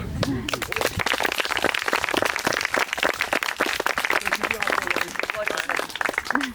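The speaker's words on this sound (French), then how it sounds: "Je crois qu'on peut l'applaudir." Spectators applaud after a free sharp-sword duel, a dense run of close, steady handclaps lasting several seconds with voices mixed in.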